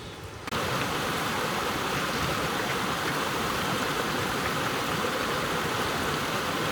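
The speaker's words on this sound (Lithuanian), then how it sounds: "Labai daug krioklių čionais." A waterfall in a New Zealand fjord roars as a steady, dense rush of falling water, loud and unbroken throughout.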